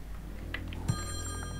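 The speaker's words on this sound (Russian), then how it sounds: "Сначала он позвонил в телефон." A telephone rings inside the video game Friday the 13th: Killer Puzzle, a bright electronic bell starting abruptly partway through and sustaining over a low game-music drone.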